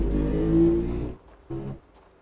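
A loud car engine from the zombie survival game Project Zomboid roars in close for about a second, cuts off, then returns for a shorter burst before dropping away.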